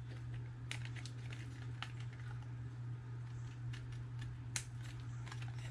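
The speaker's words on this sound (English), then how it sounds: "let's snip off some of this so that this box will close easier" Scissors snip cardboard flaps off a small handmade craft box, giving a few faint, sparse clicks and cuts close by over a steady low hum.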